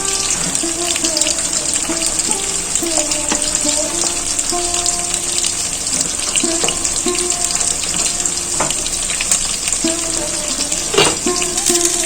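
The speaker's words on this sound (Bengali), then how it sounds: "মাছগুলো সব ভালো করে ভাজা হয়ে গেল এরপর তুলে নেব" Pieces of catla fish frying in a pan with oil, giving a steady close sizzle throughout, with occasional clinks of a utensil against the pan.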